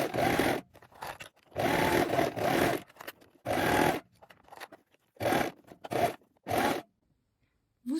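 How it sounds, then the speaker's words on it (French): An overlocker serging the seam allowance on a sewing project, loud bursts of fast mechanical stitching that stop and start in short runs of about a second, with brief quiet gaps between. "je vais surjeter la marge de couture"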